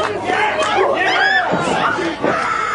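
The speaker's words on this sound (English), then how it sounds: "this is awesome chants from the crowd here in Jackson, New Jersey" A wrestling crowd in Jackson, New Jersey chants in unison at a ladder match, a steady, loud rhythmic roar of many voices filling the whole stretch with a short dip near the end.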